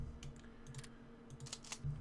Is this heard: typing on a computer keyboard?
yes